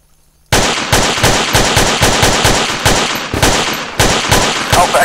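Rapid automatic gunfire from a military video game, with dense, loud, continuous bursts and several brief pauses.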